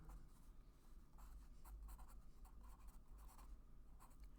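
An HB graphite pencil drawing on paper, giving a steady, faint scratchy rustle of strokes that runs continuously under a low background hum, with no voices.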